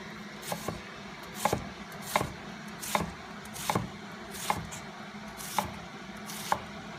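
A knife slices down through an onion on a cutting board, each cut landing as a crisp, close thud with a steady rhythm of about one stroke per second, with no talking.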